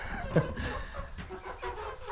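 Chickens cluck in a coop as a rooster comes over, soft overlapping clucks and a brief louder call close by, with low farmyard noise.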